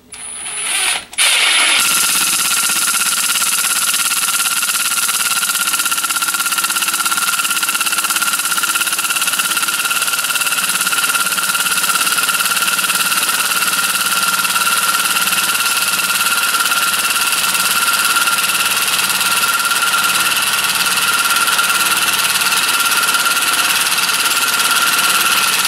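A Milwaukee M18 FUEL impact driver on its lowest speed and power setting slowly drives a drywall screw, giving a steady, loud mechanical whir and rattle that starts after a brief pause and runs unbroken to the end.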